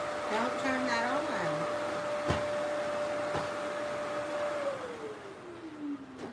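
A small vacuum cleaner whines with a steady hum for several seconds, then winds down in pitch, heard under people talking and a few knocks.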